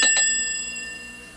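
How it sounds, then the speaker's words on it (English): A bright bell chime rings once on a storybook cassette to signal a page turn, a clear ding that fades slowly over a second or so with no talk. "when it's time for you to turn the page, you'll hear a sound like this."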